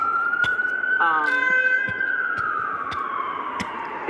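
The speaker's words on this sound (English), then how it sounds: "That sounds like an ambulance." An ambulance siren wails loudly, its pitch sweeping slowly and steadily, with a brief horn-like burst and scattered clicks over it.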